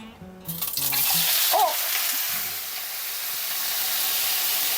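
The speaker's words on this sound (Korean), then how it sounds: "감자만 볶아줄게요." Julienned potatoes hit a hot pan and erupt into a loud, steady sizzle that keeps hissing while they are stir-fried, after a moment of voice at the very start.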